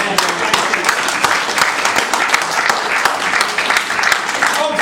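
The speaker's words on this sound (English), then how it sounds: "Round of applause. Applause to lads in this room today." A room of wedding guests breaks into sustained, dense applause at close range, clapping evenly throughout with a faint murmur of voices underneath.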